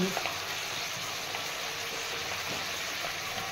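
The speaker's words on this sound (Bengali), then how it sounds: "এবারে আমি এই সেদ্ধ আলুগুলোকে সব ঢেলে" Boiled potatoes go into a hot pan with spices, giving a loud, dense, continuous sizzle that holds steady from start to finish.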